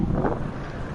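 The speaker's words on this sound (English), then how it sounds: "It's very windy out here" Strong outdoor wind buffeting a microphone, a loud continuous low rumbling roar with gusty swells, no talking.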